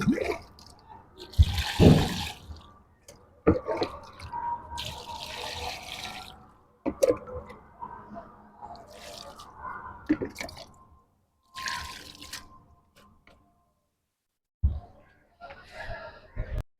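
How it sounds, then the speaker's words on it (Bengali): Water splashes and trickles in intermittent bursts while a container is filled on a new rooftop garden, with drips and gurgles separated by short quiet gaps. "ভর্তি করে দেবো জল"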